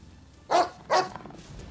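A dog in the video game Rise of the Ronin gives two sharp, close barks in quick succession, followed by faint trailing sounds.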